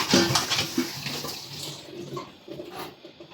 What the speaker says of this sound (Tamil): இந்த சாமான் கழுவுறதே ஒரு வீடியோ எடுத்து போடணும்